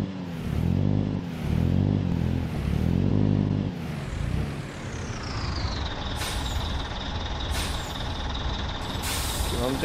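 A bus in Proton Bus Simulator releases its air brakes with a loud hiss after the idling engine rumble, followed by repeated beeps over a steady engine drone.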